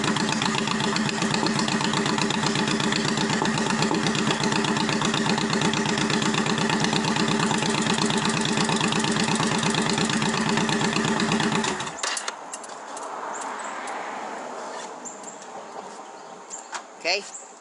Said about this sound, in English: Your bike is now fully started.